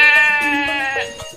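A goat in a cartoon livestock market lets out a single loud, close bleat, a quavering, nasal cry lasting just over a second.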